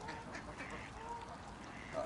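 Ducks on a pond quack now and then, faint and somewhat distant, against a murky outdoor background. One call near the end is a little clearer.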